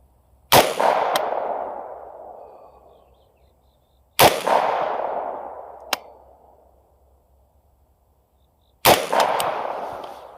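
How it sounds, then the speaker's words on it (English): Three loud rifle shots from an AR-15 on a range, each a sharp crack with a long decaying echo, spaced a few seconds apart, with no talking in between. "So I'm going to go ahead and shoot a 3-shot group on this target and just see where I'm at."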